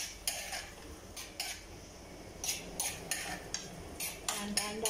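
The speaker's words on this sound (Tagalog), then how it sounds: "Tapos, haluin natin." A metal utensil stirring food in a cooking pan, giving a series of irregular scraping clinks and taps against the pan over quiet background noise, with no talking.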